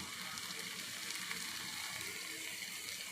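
White eggplant curry simmers in a pan on the stove with a steady, soft sizzle and bubbling. The sound runs continuously and evenly at low volume.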